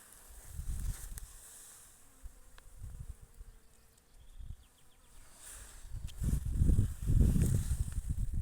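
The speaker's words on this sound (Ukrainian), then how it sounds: "Розочка Евелін, вся на бутонах, багато пчолів біля неї." Bees buzzing around a blooming rose bush in a garden, soft droning hums that rise and fall as insects pass near the microphone, louder toward the end, with no talking.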